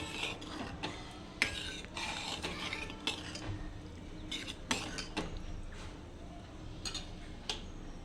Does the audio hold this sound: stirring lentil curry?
yes